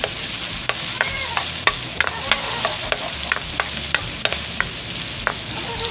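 Garlic and onion sautéing in a pan for mung bean stew, a steady sizzle under repeated sharp scrapes and taps from a spatula, about a dozen clicks at an uneven pace, close and clear with no voices.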